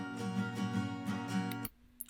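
A cheap, detuned antique acoustic guitar layered with other guitars rings out in sustained, slightly sour chords for under two seconds, then cuts off into a faint tail and a small knock at the end; no talking.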